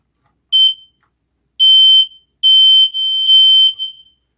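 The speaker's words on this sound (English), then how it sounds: "we're going to test the first smoke alarm in the basement" A basement smoke alarm under test emits loud, piercing electronic beeps: one short chirp, then longer tones in a broken pattern, stopping abruptly, with silence between them.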